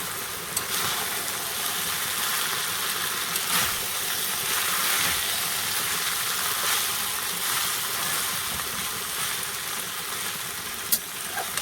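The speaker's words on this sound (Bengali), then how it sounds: "চাউমিনটা দিয়ে দিয়েছি, এবার ভালো করে একটু নেড়ে নেব।" Chowmein sizzles and fries steadily in a hot pan while being stirred, a continuous close hiss with occasional faint scrapes and no talking.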